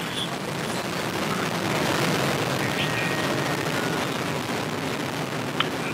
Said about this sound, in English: liftoff of the last West Coast United Launch Alliance Delta IV Heavy rocket carrying NROL 91